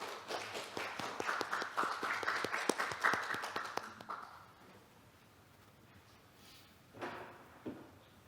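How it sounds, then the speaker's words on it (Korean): An audience at a regional economy forum claps to welcome a county governor as keynote speaker, several seconds of fairly faint, room-filling applause that dies away, then a couple of isolated thumps. "큰 박수로 맞이해 주십시오."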